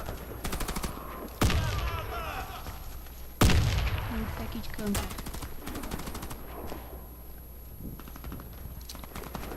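Automatic gunfire in the shooter game Warface, with bursts and sharp shots, two of them loud and close, and quieter fire scattered through the rest, heard under someone speaking.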